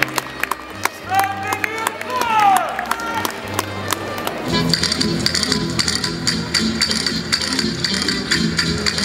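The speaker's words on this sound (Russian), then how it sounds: "Продолжайте аплодировать" Audience applause and cheering following a rumba performance at a Pro-Am Latin dance event in Kiev, starting under music and then swelling into steady dense clapping for the rest of the stretch.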